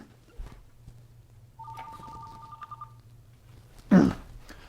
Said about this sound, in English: Phone just went.